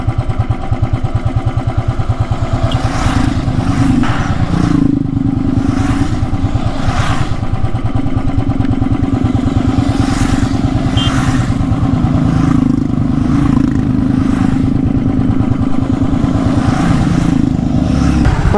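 A Royal Enfield Himalayan motorcycle rides along a road during a group Independence Day ride. The engine gives a loud, constant throbbing beat at close range, with recurring bursts of wind rush. No one speaks.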